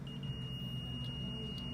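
A PC motherboard buzzer, triggered by a short circuit on the CPU supply, sounds a repeated series of short, high beeps. A thin steady tone and a low hum run beneath them.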